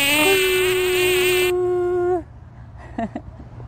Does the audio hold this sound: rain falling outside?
no